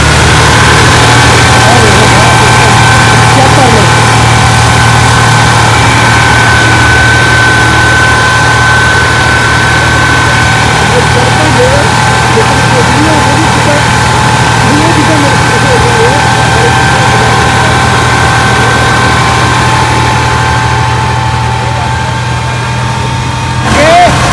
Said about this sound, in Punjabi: ਆਹ ਦੇਖ ਲਓ ਜੀ ਇਧਰੋਂ ਚੱਲ ਰਹੀ ਹੈ ਕਿਸ਼ਤੀ